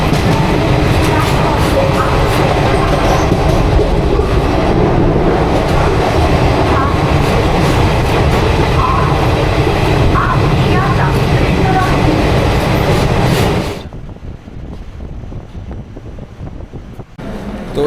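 The Teesta Torsha Express passes loudly and steadily through a station, a dense, continuous rail rumble and rattle that cuts off abruptly near the end into quiet ambience.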